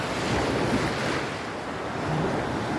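Sea waves washing onto a beach on a clear day, a continuous broad roar of surf mixed with wind buffeting the microphone, loud and close with no talk.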